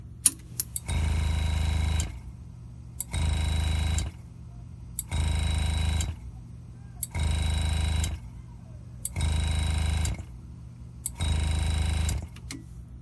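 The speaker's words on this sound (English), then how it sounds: "the air compressor is trying to stay at an equal pressure with the engraver." A Graver Helper pneumatic engraving machine runs with two handpieces plugged in while its air compressor cycles, giving six regular bursts of low mechanical droning, each about a second long, separated by short quiet gaps and sharp clicks, close and steady.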